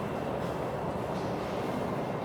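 A tourist train runs through Postojna Cave, a steady low rumble of rolling wheels and carriages echoing off the rock, continuous and moderately loud with no talking.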